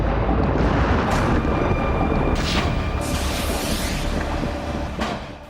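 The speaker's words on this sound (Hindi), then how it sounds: "रेजान ऑयल रिफाइनरी में फिर ड्रोन से धमाका हुआ है, जिसकी वजह से आग और भड़क उठी।" Drone strike explosion at the Ryazan oil refinery as the fire flares up: a loud, continuous rumbling roar with several sharper bursts rising out of it, fading slightly toward the end.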